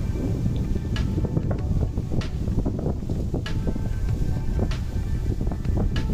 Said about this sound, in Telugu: గాలి వస్తుంది, కొంచెం డిస్టర్బెన్స్ ఉంది.